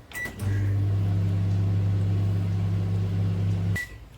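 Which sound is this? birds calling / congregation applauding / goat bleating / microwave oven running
microwave oven running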